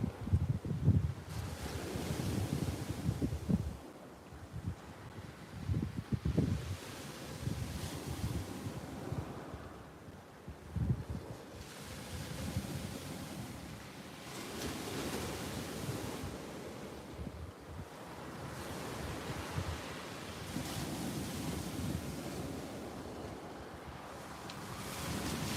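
Strong wind gusts buffet the microphone on an open seashore during a fishing trip, with waves surging and breaking underneath in loud, continuous rolling swells, no voices.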